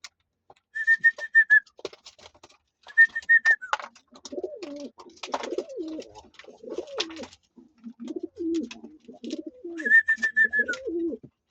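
Pigeons coo in soft, throaty bursts as they feed on scattered grain, close and fairly clear, joined by a few repeated whistled notes, with no talking.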